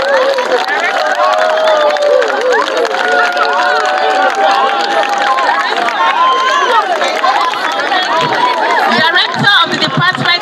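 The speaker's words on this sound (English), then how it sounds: "Put your hands together for my" Junior students at a Ministry of Health World NTDs Day event cheer and clap in a dense, loud crowd din, with shouting voices throughout and a burst of sharper claps near the end.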